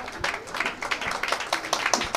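A church congregation clapping for themselves during a Tamil Christian service, a brief burst of scattered handclaps from a crowd, moderately loud and close, with a voice faintly mixed in.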